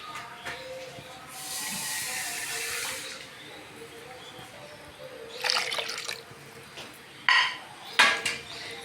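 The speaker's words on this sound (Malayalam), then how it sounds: "കുറച്ച് വെള്ളം കൂടെ വീഴ്ത്താം." Water is added to a ground tuna fish curry paste in a kitchen, a short gushing pour of about two seconds followed by the clatter of pots and utensils being handled nearby.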